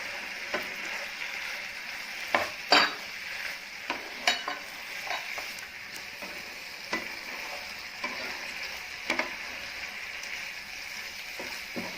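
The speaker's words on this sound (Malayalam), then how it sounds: "ഇനി ഇതിലേക്ക് നമുക്ക് വറുത്ത് മാറ്റി വെച്ചിരിക്കുന്ന സോയ ചങ്ക്സും ചേർത്ത് മിക്സ് ചെയ്ത് കൊടുക്കാം." Fried soya chunks are stirred into a sizzling pan for a soya 65 dish. A steady frying hiss runs throughout, broken by repeated sharp scrapes and clinks of the spoon against the pan.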